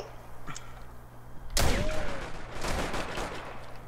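A sudden, loud burst of gunfire in the Rainbow Six Siege video game, sharp onset followed by a dense rattling tail of shots and reverberation lasting a couple of seconds, after a quieter stretch of background noise.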